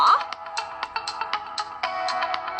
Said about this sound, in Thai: สลับกัน กดจากกระเป๋าให้มือถือดังบ้าง